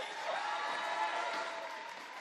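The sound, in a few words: crowd cheering for swimmer at championships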